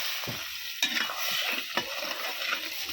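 Live crabs hit hot fat in a pan over a wood-fired stove, giving a steady close sizzle broken by a few sharp stirring scrapes, with no voices.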